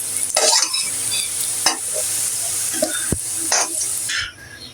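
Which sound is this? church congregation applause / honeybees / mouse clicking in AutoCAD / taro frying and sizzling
taro frying and sizzling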